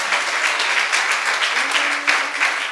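Steady, full applause from a church congregation during a morning service, a dense wash of many hands clapping continuously with no break, loud and sustained throughout.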